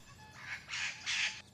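A pet parrot gives three rising squawking calls, each louder than the last, close by and fairly faint, with no talk over them.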